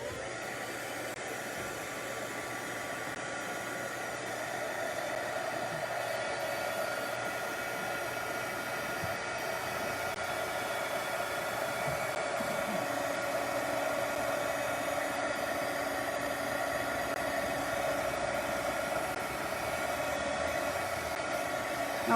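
Heat tool blowing steadily on stamping foam for cards, a continuous airy whoosh with a slight hum, close and even throughout with no talking.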